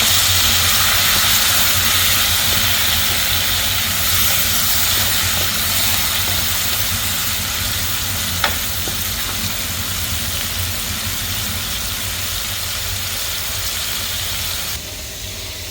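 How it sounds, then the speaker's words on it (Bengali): Prawns sizzle steadily in hot oil in a pan, a continuous loud hiss and crackle lasting throughout with one sharp click partway. "চিংড়ি মাছটা একটু ভেজে নিব"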